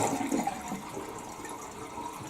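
Water gurgles and drains out of a toilet bowl after the supply is shut off and the flapper is lifted, a soft, close, steady rush with no talking.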